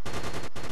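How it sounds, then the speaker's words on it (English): Gunfire in the PlayStation Home shooter video game: a loud, dense burst of rapid automatic shots, close and continuous with one brief break. "Who the fuck is shooting me, man?"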